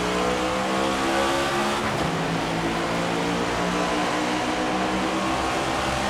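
Race cars roar around the track in the NASCAR 25 video game, a dense, steady engine drone from a pack of cars with layered revving and a brief tire squeal, loud and continuous with no talking.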